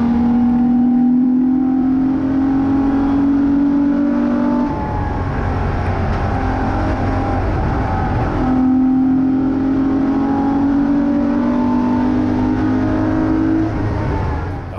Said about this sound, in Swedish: det ryter både från motorn och i avgasröret